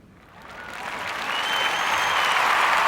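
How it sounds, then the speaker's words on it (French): Thunderous applause from an audience, swelling from a quiet start into a loud, dense roar of clapping that holds strong to the end. "Tonnerre d'applaudissements."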